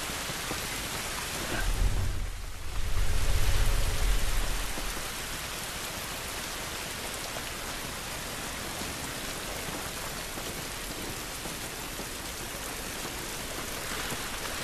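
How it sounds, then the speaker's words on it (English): Steady rain pours down outdoors in The Last of Us, a dense, even hiss of drops on surfaces that runs throughout, with a brief low rumble of thunder near the start. "It's raining, but I think it's gonna be good."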